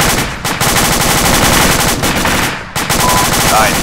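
Rapid automatic gunfire from a military shooter video game, loud and close, with dense overlapping bursts and only brief pauses between strings of shots.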